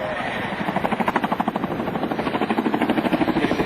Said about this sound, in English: here comes the Boeing helicopter's MH-47